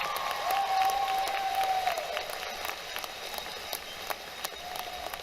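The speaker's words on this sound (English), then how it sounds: "Please give them a hand of applause as well." Applause for faculty and staff at an Ivy Tech Fort Wayne commencement ceremony: a large crowd clapping steadily as a continuous wash, gradually thinning and fading toward the end, with a faint sustained tone early on.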